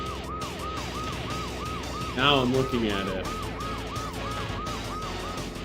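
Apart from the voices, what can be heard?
police car siren in Blast Corps video game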